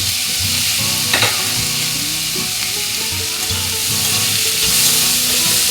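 Onions frying in hot oil for an oyster mushroom dish, a loud steady sizzle with stirring scrapes and crackles throughout, no speech.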